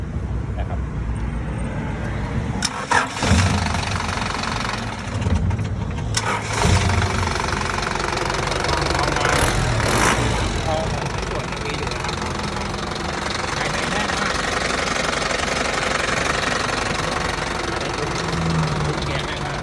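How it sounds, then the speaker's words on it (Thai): A used forklift's 2Z diesel engine runs with a steady knocking clatter, loud and close, with a few louder bursts early on and talk over it. "เครื่องยนต์ดีเซลสองแซด"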